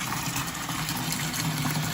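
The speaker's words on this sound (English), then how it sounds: "I'm gonna fill it with water" Tap water runs steadily into a small bowl in a kitchen, a continuous close gushing and splashing stream with no pauses and no voices.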